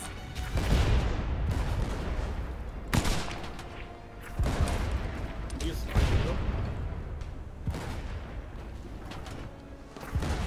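Cannon fire at enemy ships in the pirate game Blazing Sails, a series of heavy booming shots at irregular intervals with rumbling decay between them, with players talking over the action.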